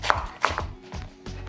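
A knife coarsely chops an onion on a board in a home kitchen, giving several close, sharp cuts at an uneven rhythm with soft knocks between them.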